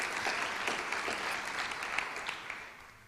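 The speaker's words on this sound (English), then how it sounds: "I think we owe you another round of applause for all the work that you've done." Audience applause for teachers at a Teacher of the Year award ceremony: a dense, even wash of many hands clapping, moderately loud and sustained throughout with no talk on top.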